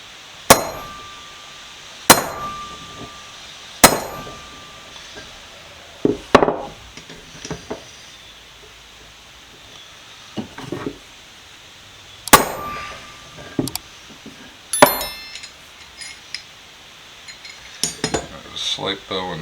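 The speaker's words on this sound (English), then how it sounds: "I grab my hammer and try and flatten that out." A hammer striking a bent handle from a vintage Columbian 143 vise to flatten it, giving sharp metallic clangs at irregular intervals with lighter taps and handling knocks between, close and ringing.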